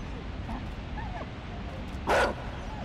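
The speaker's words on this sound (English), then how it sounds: "It's a dog." A dog in the video game Inside yelps and barks in one short, loud burst near the end, over steady low game ambience.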